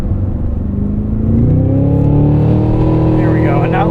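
2025 Cadillac Escalade V engine pulling hard from inside the cabin, a deep V8 roar rising in pitch as it accelerates and the automatic downshifts, loud and close.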